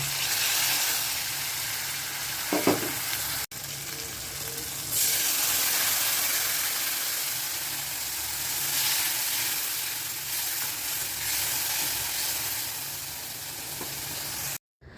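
Potato and eggplant pieces fry in hot oil in a pan, giving a continuous close sizzle with occasional stirring scrapes and brief pops.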